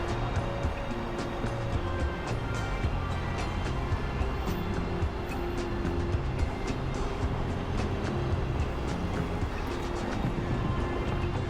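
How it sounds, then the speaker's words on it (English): A train passing on a Chicago rail line, heard as a steady, broad, fairly distant rumble and rolling clatter that holds at an even level throughout, with no talking. "Just waiting for the trains to cross. Wait a second, there's one coming."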